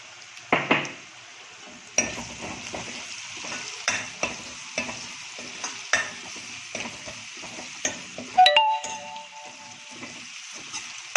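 Onions frying with spice powder in a pan over high flame, a steady close sizzle broken by repeated scraping stir strokes and a brief metallic clink near the end, with no voices.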